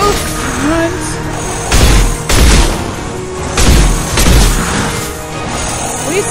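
Enemies blowing up in the video game Mass Effect 2: several loud booming blasts and crashes come in bursts over a bed of continuous combat noise.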